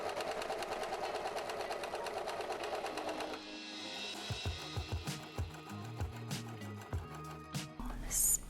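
A serger with needle tension at 4 and looper tension at 6 runs steadily through a long test strip of material, a dense continuous mechanical whir that stops partway, followed by lighter clicks and handling sounds.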